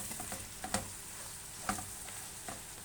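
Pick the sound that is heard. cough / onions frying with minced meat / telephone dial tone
onions frying with minced meat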